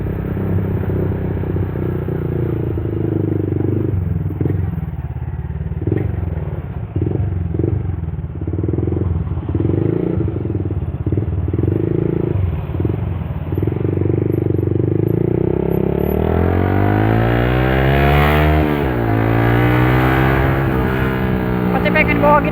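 A Yamaha Vixion motorcycle rides along with a steady, fairly loud engine drone and road rumble, the pitch sweeping upward near the end as it revs and accelerates; a voice talks over it at times.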